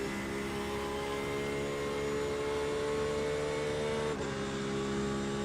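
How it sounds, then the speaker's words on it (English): Mazda RX-7 race car in iRacing holding a steady, droning rotary-engine tone at constant revs, with a brief dip in pitch near the end as the engine note shifts. "What sounds dull? The RX-7."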